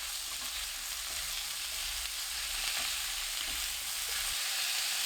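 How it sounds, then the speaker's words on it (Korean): Sliced zucchini, minced garlic and green onion stir-fry in cooking oil over medium heat, giving a continuous hiss of sizzling up close with faint stirring movements and no voices. "다진 마늘 반큰술, 파 넣고 20초 볶아주세요."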